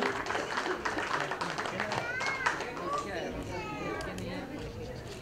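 Applause and clapping from an audience at an event, a continuous, fairly faint crowd patter with chatter and children's voices mixed through, and whistles or cheers rising over it midway.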